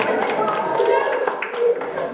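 A stand-up comedy show audience cheers and claps, a steady wash of whoops, voices and scattered hand claps.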